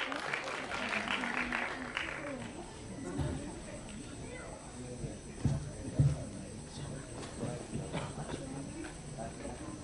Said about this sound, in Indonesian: Sekali lagi tepuk tangannya